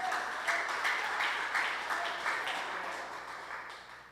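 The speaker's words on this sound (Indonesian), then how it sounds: "Tepuk tangan buat Tuhan" A church congregation at a Sunday worship service applauds for God, a steady wash of clapping with periodic stronger bursts, moderately loud and sustained throughout with no talk over it.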